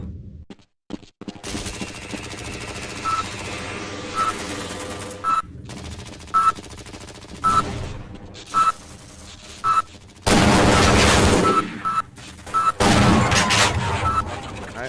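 Automated turrets in the video game Half-Life: Blue Shift fire in loud rapid bursts, with stretches of sustained gunfire broken by pauses and short electronic beeps, close and dominant over a game soundscape.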